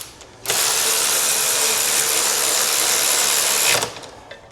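A 14mm spanner tightening the side stand bolt on a brand-new bike: one loud, close, continuous burst of rapid ratcheting clicks lasting about three seconds, then it stops.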